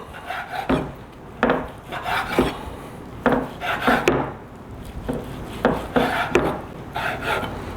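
A knife cuts through cooked Texas-style beef fajita meat in close, repeated rasping strokes that come in uneven bursts, with no talking.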